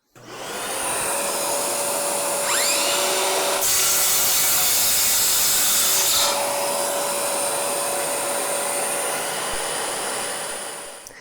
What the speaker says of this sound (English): So I'll start up the vacuum and we'll make the cut.